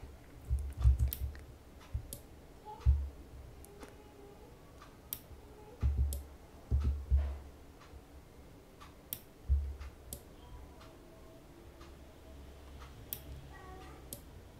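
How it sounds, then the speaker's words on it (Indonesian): A mechanical relay coil switching in a lab circuit driving a DC motor gives sharp, close clicks at irregular intervals, some in quick pairs, over low thumps and a faint steady background hum. "Ini pakai LED aja ini mekanis nih ya jadi pakai coil kedengaran suaranya klik klik klik klik gitu"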